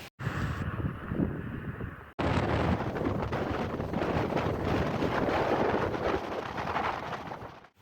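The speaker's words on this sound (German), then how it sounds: "Es war geisteskrank windig." Strong wind coming off the sea buffets the microphone at a seaside campsite, a loud continuous roaring rumble with one brief cutout before the gusting resumes.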